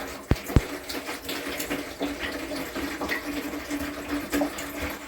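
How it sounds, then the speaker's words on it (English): Neem cake tea pours from a bottle into a watering can in a steady splashing stream, with a couple of sharp knocks at the start and a continuous gurgling fill throughout. "I'm going to take this tea and I'm going to pour it into this watering can here."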